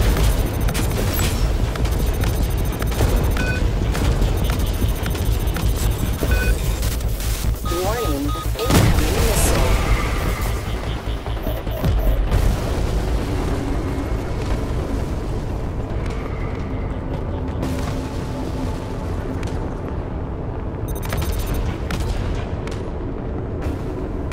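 Enemy ships exploding in a space combat video game, with continuous rumbling booms and blasts layered with game effects, while a synthesized voice announces events over the loud action.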